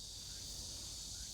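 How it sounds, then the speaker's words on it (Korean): Cicadas swarm a summer apple-jujube orchard, their dense, steady high-pitched buzz droning without break for the whole moment, with no voices. "다른 데보다도 지금 매미가 좀 많은 것 같습니다"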